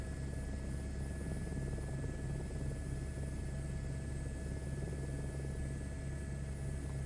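Steady helicopter rotor and engine drone in Microsoft Flight Simulator 2024, a constant whirring hum with a faint high whine, even in loudness throughout with no talking.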